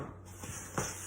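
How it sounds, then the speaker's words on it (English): Baker's Joy baking spray is sprayed onto a spoon in a kitchen, giving one brief close hiss after a fainter soft rustle. "I'm going to spray my spoon with a little bit of Baker's Joy"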